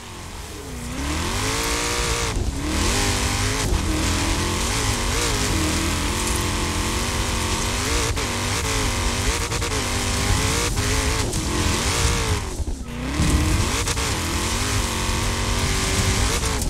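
A car in Forza Horizon 4 drives off-road, its engine droning and revving steadily with rising and falling pitch and occasional tire noise, loud and continuous throughout.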